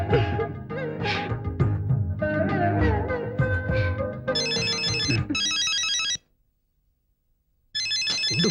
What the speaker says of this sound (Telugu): ఫోన్ వచ్చింది.